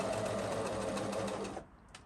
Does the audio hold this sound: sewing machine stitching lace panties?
yes